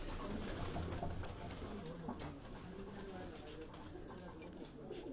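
Pigeons coo softly and steadily under a constant wash of background noise, while people talk nearby.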